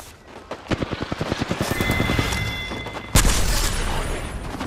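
A rapid burst of gunshots in the video game Apex Legends, a rhythmic string of sharp shots followed by a louder heavy impact and continued rumbling combat noise.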